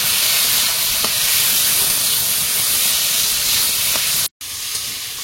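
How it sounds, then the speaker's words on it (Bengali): Potatoes stir-frying in a pan for an aubergine, potato and egg curry, a steady loud hiss and sizzle running throughout with faint clinks, briefly cut to silence near the end before resuming. "আলুটা একটু নেড়ে চেড়ে কষিয়ে নিয়েছি"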